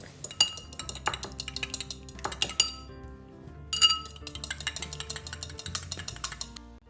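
Quick metallic clinking of a fork against a glass bowl while beating egg, a fast steady whisking rhythm with a brief pause midway; no talking.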